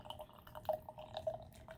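Water trickles and drips from a breast milk transfer cup, a few quick, faint splashes and drops heard close up in an otherwise quiet space.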